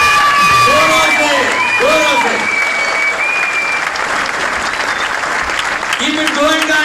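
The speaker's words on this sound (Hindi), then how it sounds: "तालियों की गड़गड़ाहट चालू रखें," Audience at a live stage show in Dubai applauding loudly and continuously, a dense wash of clapping with scattered shouts and voices rising over it throughout.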